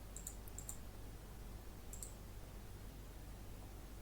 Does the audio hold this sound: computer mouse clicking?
yes